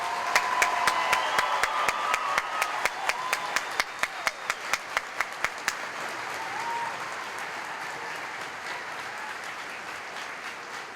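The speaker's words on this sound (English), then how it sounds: "How about a nice round of applause for all our honor graduates?" An audience applauds honor graduates at a military training squadron graduation ceremony, with steady, sustained clapping from a large crowd and a few louder, sharper claps standing out near the front.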